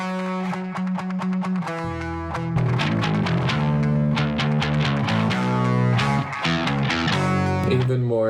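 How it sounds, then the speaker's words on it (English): Layered guitars in a track play a low-key, choppy rhythmic part that follows the bass groove. A steady bass line sits underneath and the mix thickens after the first couple of seconds. No talking. "Some more guitars. Everything's kind of like low-key following that bass"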